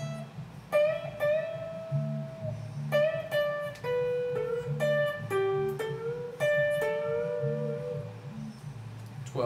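An electric guitar plays an opening lead lick, with sustained, bent notes and a rising and falling melodic line that rings out clearly and alone for about nine seconds.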